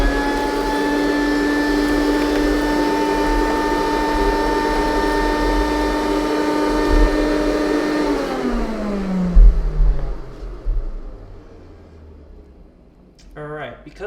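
A Rainbow E2 Black Water vacuum with its power nozzle runs over a hard floor scattered with cereal and litter, giving a loud, steady motor drone that winds down in pitch, followed by a few clunks and rattles.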